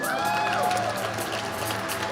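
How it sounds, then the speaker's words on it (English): Audience applause and cheering for the presenting sponsor at the 2021 Detroit Design Awards show, a dense, steady wash of clapping that stays loud throughout. "please help me in giving a round of applause and a big thank you to our presenting sponsor"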